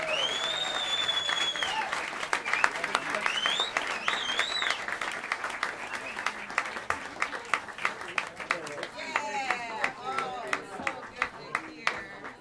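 An audience at Smalls Jazz Club applauds a jazz sextet in a sustained, lively round of clapping, with whoops and voices rising above it, and a few scattered claps lingering as it fades.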